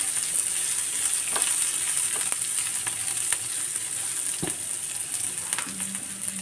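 Mustard seeds, urad dal and chana dal frying in hot oil, a continuous bright sizzle with faint pops and occasional stirring scrapes, no speech.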